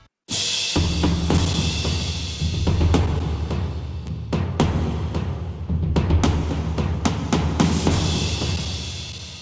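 Booming orchestral drums and timpani roll and strike in layered hits, with loud, resonant low thuds and sharp accents ringing out through a full, continuous rumble.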